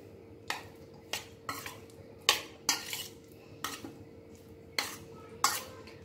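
Taro pieces are mixed with turmeric, coriander powder and garam masala in a bowl, giving a series of sharp spoon-on-bowl clinks and scrapes at an irregular rhythm over a quiet room.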